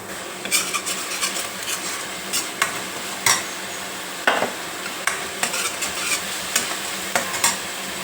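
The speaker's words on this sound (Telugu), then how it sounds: "ఈ ఉల్లిపాయ పేస్ట్ కొంచెం వేగిందండి" Onion paste fries in a pan with a soft steady sizzle, punctuated by scattered scraping and clinking of a utensil against metal.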